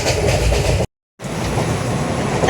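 A train travelling to Belgaum at night rattles and rumbles steadily from inside the carriage, with a brief dropout in the middle before the rolling noise resumes.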